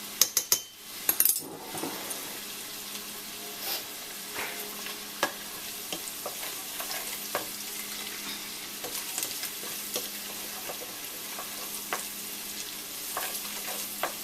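Onion frying in a pan with a sprinkle of salt: a quiet, even sizzle continues for the whole stretch, punctuated by a few sharp knocks early on and scattered light taps and scrapes of stirring.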